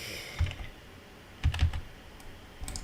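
Several short bursts of keystrokes on a computer keyboard, close and clear, separated by quiet pauses.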